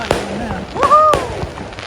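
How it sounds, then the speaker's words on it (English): Fireworks display at a sailing club heard from a boat nearby, with a few sharp crackling bursts and rising whistles against a noisy outdoor background, while voices call out over them. "we're actually between two fireworks displays. This one's a sailing club behind us."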